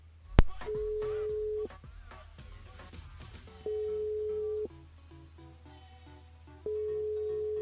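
A radio station switchboard telephone line rings in repeated long, steady electronic tones separated by pauses, with a click at the start and quiet background sounds between rings.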